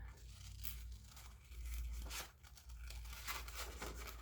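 Scissors cutting a wave shape out of paper for a Japanese notan design, giving close, continuous tearing and crinkling snips with a few sharper crunches, no voices.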